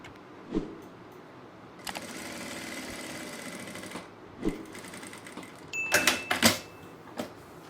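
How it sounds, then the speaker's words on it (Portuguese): Sewing machine stitching strips of fabric for a French-braid bag, heard as short bursts of mechanical whirring and clatter with quiet gaps between, growing busier and louder near the end. "E vou costurar novamente."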